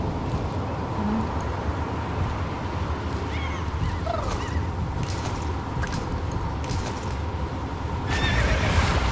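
A horse in the Star Stable video game neighs in short whinnying bursts over a steady busy game backdrop with ambient clatter, and no voices are heard.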